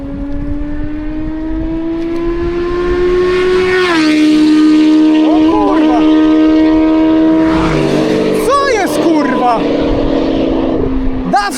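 Video game engines roar and rev with harmonic whines, a motorcycle and a car speeding past with rising and falling pitch, a second engine swooping by near the end.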